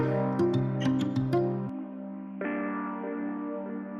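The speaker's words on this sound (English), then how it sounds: "And then I add the vibe piano." Vibe piano from a Christmas pop song production plays bell-like chords with bright struck notes, then settles into softer sustained tones that shift once midway, quiet and alone.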